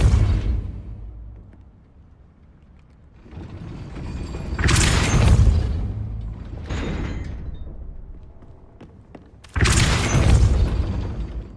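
Depulso force-push spell cast in Hogwarts Legacy, heavy magical booms and mechanical clanks bursting out in three loud surges with quieter rumbling between them.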